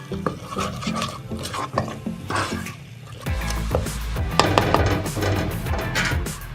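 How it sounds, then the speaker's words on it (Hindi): Chickpea chaat with tamarind sauce is stirred in a pan, a spoon scraping and clacking against the metal in repeated close strokes, with faint sizzling underneath. "मिक्स कर लेते हैं।"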